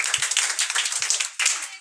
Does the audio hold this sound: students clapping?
yes